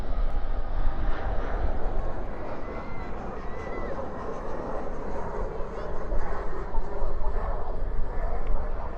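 A landing airliner with spoilers up and thrust reversers deployed roars steadily at night at Dallas Fort Worth airport, a loud broadband rush that holds for the whole stretch with faint crow-like caws above it.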